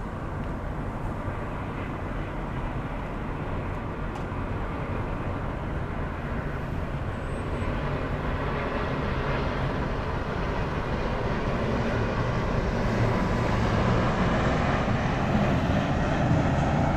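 An American Airlines Boeing 777 at Miami Airport, its jet engines producing a steady, loud broadband roar that slowly swells over the whole stretch, with no voices.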